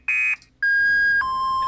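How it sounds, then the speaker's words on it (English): A car alarm sampled and cut up to open a theme song: a short warbling tone, a brief gap, then a long steady high beep that steps down to a lower sustained tone, clean, loud and close. "the beginning of the song will go through the cycles of this car alarm that we've all heard before"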